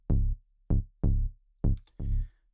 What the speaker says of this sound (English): here I have just a simple bass, like a square wave in serum.